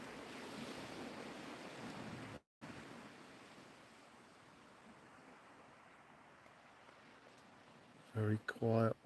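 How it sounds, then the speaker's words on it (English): Ocean waves lapping at a shore during sea fishing, a soft steady wash of surf with some wind rumble, brief dropout early on and a few loud thumps near the end. "we listen to the beautiful sound of the ocean lapping at the shore"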